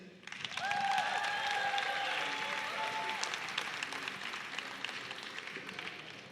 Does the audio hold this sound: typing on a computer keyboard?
no